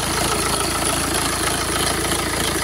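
The 2.0-litre diesel engine of a 2008 BMW 318d E90 idles steadily up close, a continuous low rumble with a fine rhythmic knock and no other sounds.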